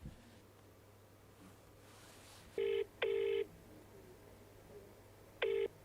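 A telephone is dialed with a few short, bright keypad tones in quick succession, followed a moment later by another tone, faint room hum underneath and no voices.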